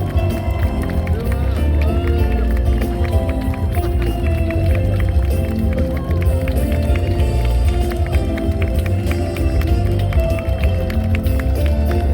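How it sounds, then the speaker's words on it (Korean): A large outdoor crowd in a station plaza clapping for a mayoral candidate at a vision declaration event, sustained loud applause with a voice talking over it throughout. "다시 한번 큰 박수 부탁드리겠습니다."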